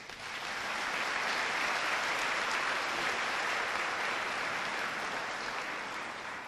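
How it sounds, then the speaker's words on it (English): Steady applause from a crowd at a high school athletic banquet, an even wash of clapping that holds at constant volume throughout, slightly distant, with no talking over it. "please give them a round of applause"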